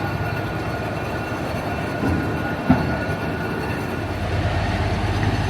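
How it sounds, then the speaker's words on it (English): A historic train departs at the Georgia State Railroad Museum in Savannah, rumbling steadily along the tracks with a low continuous roar, one sharp metallic clank partway through, the rumble swelling slightly toward the end. "The train is off again on another journey."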